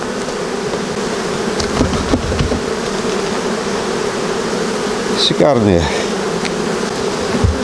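Honey bees swarm a hive frame of brood with a dense, steady buzz close by. One bee sweeps loudly past partway through, and someone speaks briefly.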